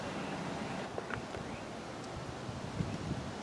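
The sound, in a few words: strong wind outdoors in a potato garden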